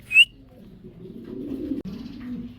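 Helmet pigeons cooing: a low, soft, rolling coo murmurs steadily at close range, preceded by a brief sharp chirp at the very start, with no voices.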